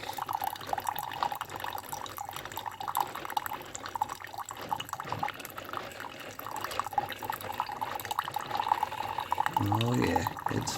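Coffee pouring into a cup from a machine, a thin continuous trickle with dripping, heard close and moderately loud, with a short mechanical whir near the end.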